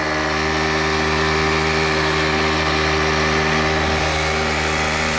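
A small pit bike engine runs steadily while being ridden around an apartment area, a loud, continuous mid-pitched drone with stable harmonics and slight wavering near the end.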